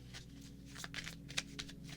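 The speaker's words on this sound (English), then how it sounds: "I love the little ones because it's easier for me to shuffle." Small tarot cards being shuffled by hand, a soft papery riffle with brief flicks and slaps, quiet and close over a low background hum.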